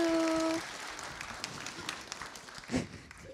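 Audience applause for guests on a French-language show, a brief patter of clapping that stays moderate and fades, with a short tone at the start and a faint voice near the end.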